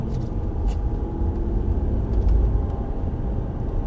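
An Aston Martin Vantage V8 engine roars at full throttle, a dense, continuous low rumble holding steady throughout with no voices.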